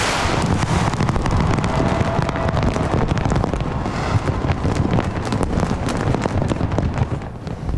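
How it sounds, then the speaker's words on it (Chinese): New Year's Eve fireworks over Sydney Harbour send a loud, dense, continuous barrage of cracks and booms, blended with roaring wind noise on the microphone. "雪梨港夜空火树银花正式挥别2022。"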